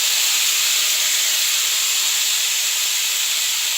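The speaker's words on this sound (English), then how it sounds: "So, now we return all the meatballs there." Meatballs hit a hot pan and sizzle with a loud, steady, close hiss that stays constant and never lets up.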